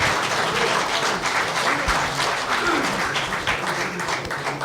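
Audience applause fills a Nobel Peace Prize 25th anniversary ceremony, a broad, even wash of many hands clapping steadily throughout with only faint voices beneath.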